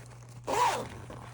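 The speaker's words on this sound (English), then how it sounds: "so I can zip that up basically" A zipper closes a front pocket inside the main compartment of an EDC crossbody sling bag, one quick close rasping pull of about a third of a second against a quiet room with a low hum.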